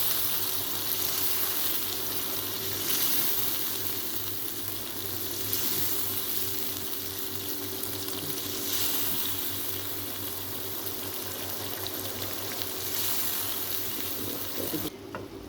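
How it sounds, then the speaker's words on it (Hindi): Chicken karahi with yogurt and green chilies frying in a pan, giving a steady, dense sizzle that holds evenly throughout with no talking. "अब हम इसको अच्छी तरह भूनेंगे।"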